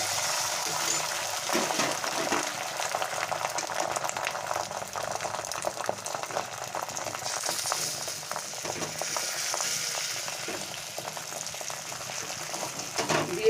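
Egg batter poured into a pan of hot oil with a splash of water crackles and sizzles steadily throughout, a dense, close frying hiss with bubbling spatter.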